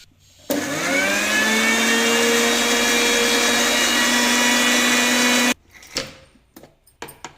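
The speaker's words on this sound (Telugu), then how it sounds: "మూత పెట్టేసుకొని మళ్ళీ ఒకసారి మెత్తగా మనం మిక్సీ పట్టుకోవాలి" A mixer grinder blends carrot into a paste with a loud, steady whirring drone of about five seconds that rises slightly as it spins up. Afterward come a few clunks as the lid and jar are handled.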